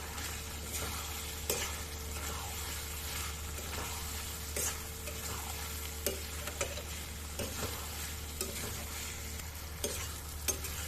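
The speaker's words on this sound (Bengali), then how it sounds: "এটাকে আমি নাড়াচড়া করতে থাকবো" Spiced chicken liver being stirred in a pan, a low continuous sizzle broken by repeated scraping and clinking strokes of a spoon against the pan, close by with no talk.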